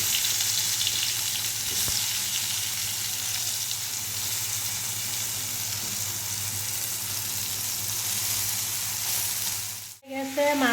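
Cabbage fries in a pan with a steady, close hiss and sizzle that carries on without a break, then drops out suddenly near the end.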